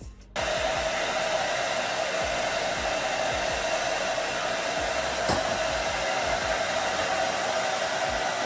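A hair dryer blows steadily on a section of a wig during installation, switching on sharply after a brief quiet start and then holding a loud, even whoosh close by.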